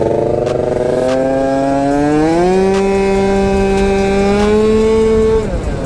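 A scooter engine revs and accelerates nearby, its buzzing pitch climbing in steps as it gathers speed, then cutting off abruptly near the end, with no voices.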